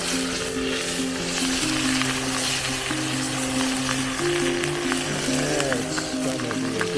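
Steak frying in a pan at a riverside camp, a steady close sizzle under a low sustained tone, with faint stirring.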